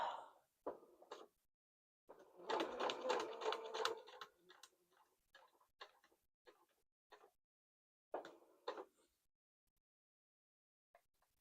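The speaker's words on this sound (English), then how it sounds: "Let me sew this tiny little seam and I'll show you." A sewing machine stitches a small seam on a gemstone quilt block, with a short burst of rapid stitching followed by scattered faint ticks and clicks of the machine, quiet and close.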